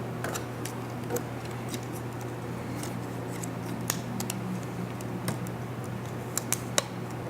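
Scissors snipping photographic film during black-and-white film developing prep, a series of sharp, quick clicks and snips scattered through a quiet room with a steady low hum underneath.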